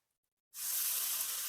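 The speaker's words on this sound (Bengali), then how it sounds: "এবার আমি এটা কষাবো যতক্ষণ না মশলা থেকে তেল ছেড়ে আসছে।" Spice paste hitting hot oil for aloo phulkopi, a cauliflower and potato curry with turmeric and Kashmiri chilli powder: a sudden loud sizzle erupts after a moment of silence and holds as a steady, bright hiss.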